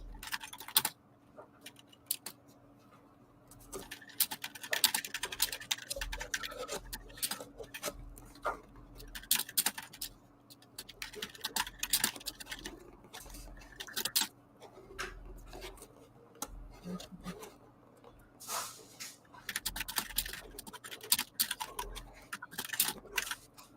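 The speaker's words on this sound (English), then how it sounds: "hold on, I'm gonna type this out" Irregular clicking of a computer keyboard being typed on, close and fairly quiet, continues in uneven bursts with short pauses throughout.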